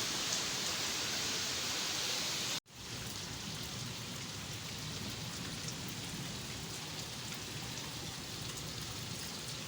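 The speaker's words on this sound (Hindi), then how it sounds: "लगातार बारिश हो रही है, एक सेकंड नहीं, एक सेकंड भी रुकी हो।" Continuous heavy rain pours down over a market area, a dense, even hiss on surfaces that holds steady apart from one brief cut.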